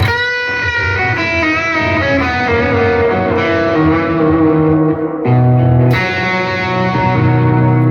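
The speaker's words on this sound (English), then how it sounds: "Sorry, guitar's out of tune." Out-of-tune electric guitar with very old strings, through heavy effects pedals, sustained chords with a slightly sour, detuned shimmer, loud and continuous with a brief dip before a new strum.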